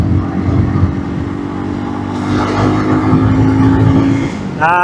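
A Yamaha NMAX motor scooter on an off-road trip gives a close, loud, steady engine drone that swells slightly midway, with no speech.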